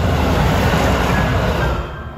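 A JR Kiha 25 series diesel railcar, a train-style diesel multiple unit, rolls past close by with a loud steady rumble and rail noise that fades slightly toward the end; no voices.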